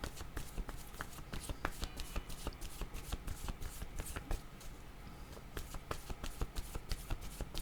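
Tarot cards shuffle in the hands, a rapid continuous riffling and flicking close up, steady for the whole stretch with no voice.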